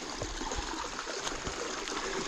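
Water trickles and flows steadily in a stream inside a canyon, a soft continuous babble of small splashes close by with no talking.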